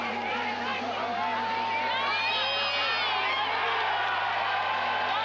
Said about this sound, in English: No question, the greatest cheer of the day